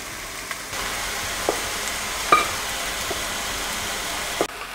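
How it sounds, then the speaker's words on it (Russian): Steady sizzle of potatoes and mushrooms frying in a pan, a constant hiss with a few sharp clicks and scrapes of utensils, no talking. "И жарим еще буквально 2 минуты."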